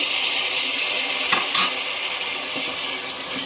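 Chopped tomatoes go into a pan of browned onions for a fish curry, bringing a steady sizzle with a few scraping stirs and a light metallic clink partway through, close and fairly loud.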